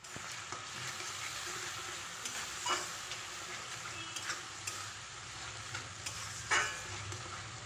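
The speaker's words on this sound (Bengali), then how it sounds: "মশলাটাকে কষিয়ে নেবো" Spice paste with tomato, salt, turmeric and a little sugar frying in a pan for a fish dish, stirred now and then: a steady close sizzle with occasional scraping spoon strokes, heard alone with no talking.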